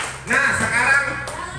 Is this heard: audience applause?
yes